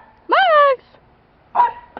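A young Dalmatian-mutt puppy lets out a drawn-out yelping bark, then after a short pause a second shorter bark, both close and clear.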